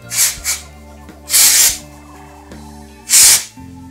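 Charming dry shampoo aerosol spraying onto hair at the roots, three short close hissing bursts, the first a quick double puff, then two longer blasts, with quiet rustling between.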